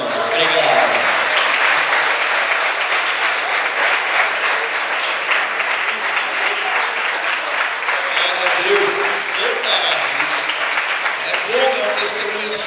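A church congregation applauds steadily for the whole stretch, dense sustained clapping with a few voices calling out within it.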